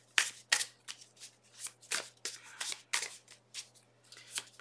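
Lilifer Tarot cards being shuffled by hand at close range, a quick series of crisp riffling bursts separated by short silences, with no talk.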